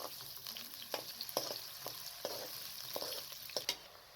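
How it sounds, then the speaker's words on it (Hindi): Onions hit hot cooking oil in a kadai, giving a soft continuous sizzle with a few light stirring clinks and scrapes at irregular intervals, quiet and close. "साथ में प्याज को डाल दें।"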